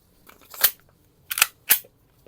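A polymer-frame G18 replica pistol fires three sharp, snappy cracks, one followed by a quick pair, close up against near silence.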